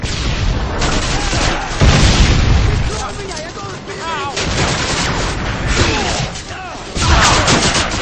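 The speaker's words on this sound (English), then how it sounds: "Friendly predator missile inbound" Predator missile strike blasting in a loud multiplayer war shooter, with booming explosions and bursts of gunfire layered under excited shouting voices throughout.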